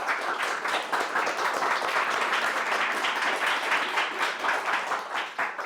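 An audience applauds guests at a book presentation, a dense, even wave of clapping from many hands that carries steadily for several seconds.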